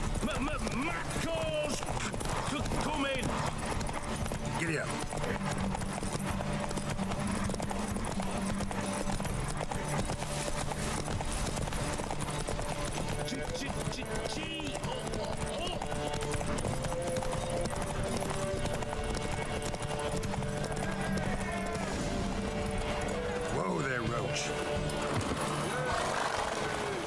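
A horse gallops in the video game The Witcher 3, its clip-clopping hooves pounding in a fast, continuous rhythm alongside snorts and whinnies over game music, with voices talking at times.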